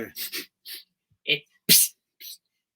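A sharp sneeze bursts out among a few short breaths and small vocal sounds, close and fairly loud.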